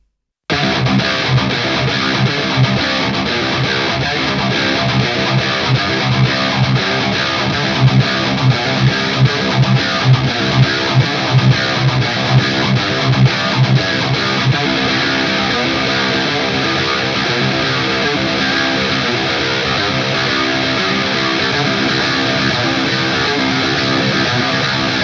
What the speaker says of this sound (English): So let's take a listen to the isolated one right now as well.